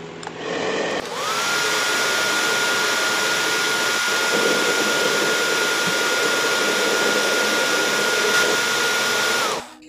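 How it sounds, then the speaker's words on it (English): A handheld hair dryer blows steadily and loudly for almost the whole stretch while hair is being blow-dried, switching on near the start and cutting off at the end, with no talk over it. "the electricity came on and I was finally able to blow dry."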